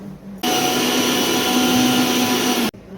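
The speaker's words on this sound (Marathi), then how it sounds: "टमाटा आपण बारीक करून घेतलेला आहे आता मिक्सरमधून." A kitchen mixer grinder blends tomatoes into a paste, starting abruptly with a loud, steady high-pitched whir that runs for just over two seconds before cutting off.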